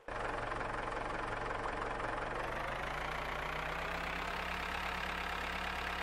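A tractor engine in Farmer's Life runs steadily at idle, a loud continuous low drone with a slight rise in pitch partway through, heard alone without talk.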